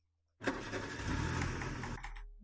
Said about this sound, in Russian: Вот я несколько раз нажал на воспроизведение завод автомобиля